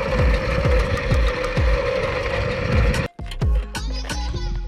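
A tuned Puch Maxi moped engine running close by, loud and continuous with a rapid throbbing beat, briefly cutting out and then restarting at a rougher, uneven idle.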